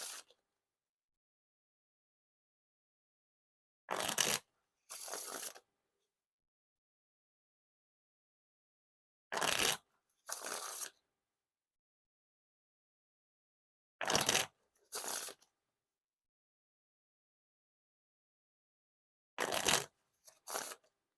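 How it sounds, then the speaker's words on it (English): Fontaine Wine Edition playing cards riffle shuffled and bridged in four rounds, each a quick papery ripple followed by a softer cascading bridge, close and crisp, with long silences between. "Now time for the riffle shuffles or bridge shuffles."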